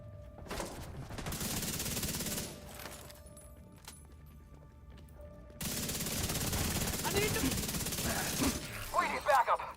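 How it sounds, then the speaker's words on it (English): Automatic gunfire aimed at the player in the video game The Division comes in two long rattling bursts separated by a short lull, with voices speaking during the fight. "Sir, could you shoot at me again?"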